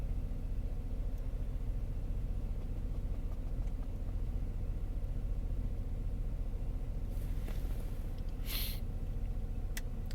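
The new engine in a 2003 Saab 9-5 runs on its first cold start with a steady, close, low idling rumble and a fine mechanical patter. Brief metallic clicks and squeaks come near the end.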